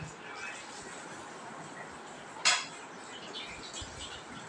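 A single sharp metallic clink as a stainless steel cup is set down in a home kitchen, one bright close knock standing out against a quiet room hush.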